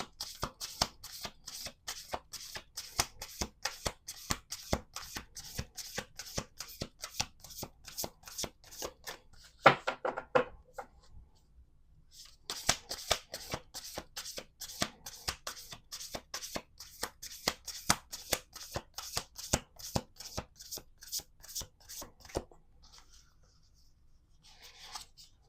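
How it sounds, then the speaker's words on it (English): Rapid, rhythmic riffling of a card deck being shuffled again and again, with a brief pause between bursts, close and crisp. "Do 2 more shuffles."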